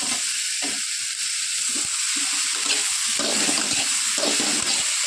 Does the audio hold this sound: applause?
no